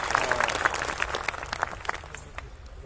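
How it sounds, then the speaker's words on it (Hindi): Loud applause from an audience honoring dance performers at a spiritual talk event, a crowd of hands clapping densely at first, then thinning and softening over the final second. "एक बार जोरदार तालियां सभी कलाकारों के लिए"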